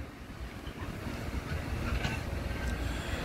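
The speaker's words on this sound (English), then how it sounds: "How cool was that Amtrak about the 50 years train, yellow and black, leading a Metrolink passenger train?" An Amtrak locomotive in yellow and black 50th-anniversary paint leads a 13-car Metrolink passenger train past at moderate distance. A steady low rumble and faint wheel clatter build gradually, with no voices.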